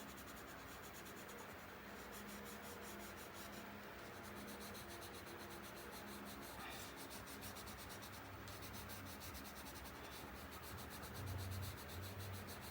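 Colored pencil rubbing and shading across paper, a steady soft scratchy sound that runs on continuously and close by with no talk over it.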